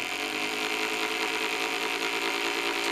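A Lynx Joule motor runs at a steady pace, a continuous whirring drone with a bright mid-high tone, constant and close, with no talking.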